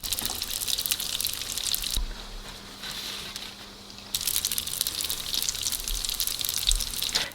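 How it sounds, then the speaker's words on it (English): Bread dough fries in hot vegetable oil with a steady crackling, hissing sizzle that dips briefly softer in the middle before returning at full intensity. "I'm going to place the dough right in and try not to overcrowd it"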